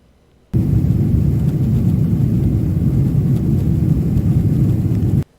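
Jet airliner taking off, a steady loud low rumbling roar that starts abruptly, holds evenly for about five seconds with no talk over it, then cuts off sharply.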